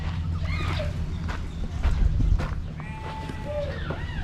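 Goats roam a temple ground near the Amphawa floating markets in Thailand, giving a few scattered bleats amid rustling, shuffling and outdoor background noise, with faint voices nearby.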